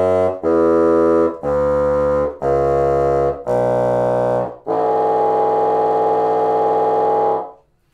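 A bassoon plays a descending scale of raucous, buzzy multiphonic notes, four short detached ones followed by a long held final tone, loud and close.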